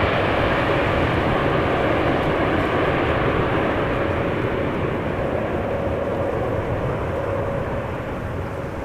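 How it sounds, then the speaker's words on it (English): A KLM Boeing 787-10 Dreamliner takes off from Amsterdam Schiphol bound for Toronto. A loud, continuous jet roar rumbles steadily without a break, easing a little near the end. "KLM Flight 691 taking off to Toronto, 787-10 Dreamliner"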